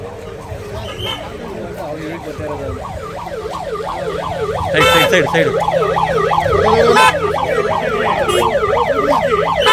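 Ambulance siren passing on a road, a loud wailing up-and-down tone that grows closer, with people shouting over it and traffic noise beneath.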